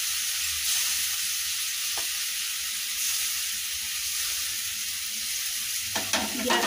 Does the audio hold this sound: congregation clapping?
no